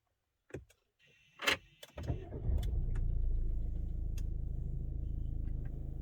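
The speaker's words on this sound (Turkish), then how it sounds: "aracı çalıştırıyorum" A Peugeot Rifter GT starts up: a few clicks and a short whir, then the engine cranks and catches into a steady, close idle that holds to the end.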